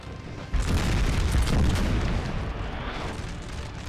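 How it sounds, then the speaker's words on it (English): Deep booming artillery fire on a Napoleonic battlefield in Napoleon: Total War, a loud sustained rumble of cannon blasts rolling over distant battle noise. "Artillery trying to help them out."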